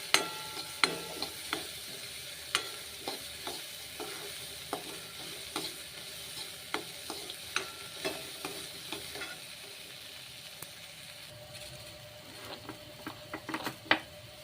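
Grated ginger and garlic fry in a pan, steady sizzle with frequent scraping stirs and clicks of the utensil against the pan throughout, close and alone with no talking, while vegetable noodle soup is being made.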